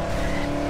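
A car engine in the Dead Island 2 video game, a brief, steady droning hum at moderate loudness, with no talk over it.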